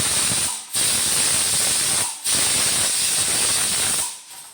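A pressure cooker whistle blows its third time while brewing pineapple wine, a loud continuous high steam hiss in three close bursts broken by brief gaps, alone with no talk.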